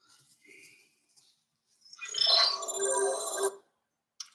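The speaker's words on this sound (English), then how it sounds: "That's just my phone going off." A mobile phone ringtone goes off nearby, a bright electronic melody lasting about a second and a half, preceded by faint rustles and ending abruptly.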